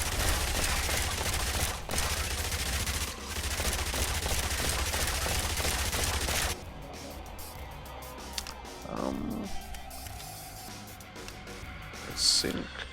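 Minigun fire in the zombie survival video game Yet Another Zombie Survivors, a dense continuous rattling stream of rapid shots for about six seconds that then cuts out, leaving quieter game sounds and a few small effects.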